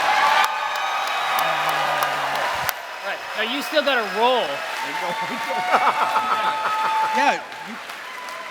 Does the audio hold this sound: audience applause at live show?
yes